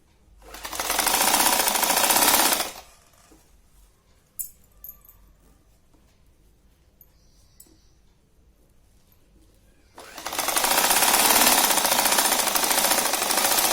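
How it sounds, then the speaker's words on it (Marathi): A sewing machine runs in two long steady bursts while stitching the waistband of a petticoat, with a quiet pause of small clicks and handling noises between them. "कमरपट्टीची वरची बाजू अशी शिवून घ्यायची."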